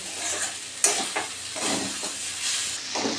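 Flattened rice pulao sizzles in ghee over low heat while a spoon scrapes and turns it in the pan, close stirring strokes every half second or so over a constant hiss.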